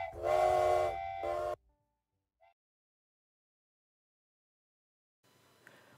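Thomas the Tank Engine and his friends sound a burst of steam engine whistles, several layered tones blowing together loudly for about a second and a half before quiet.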